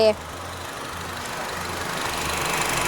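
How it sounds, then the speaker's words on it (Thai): A used 2014 Honda Accord 2.0 EL idles close by with a steady, low engine hum after a brief voice at the start. "เครื่องยนต์เสียงดีนะคะ"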